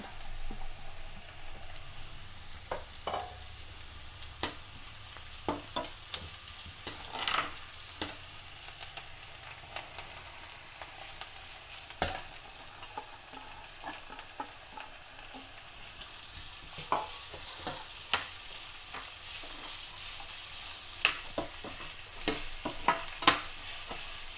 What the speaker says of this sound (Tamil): வெங்காயம் இவ்வளோ வதங்கினா போதும்